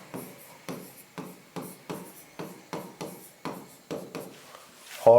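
A marker writes a line on a board, repeating regular soft scratchy strokes about twice a second, close and alone with no talk.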